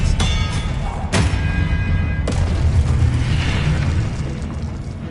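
Expelliarmus spell blasts from the Hogwarts Legacy video game, sharp bursts with bright crackling decay, two or three in quick succession over a rumbling backdrop.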